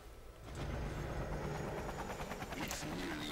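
A helicopter in the video game Lollipop Chainsaw gives off a steady, rapid rotor chop and engine whine, moderately loud throughout, with a brief sharper sound near the end.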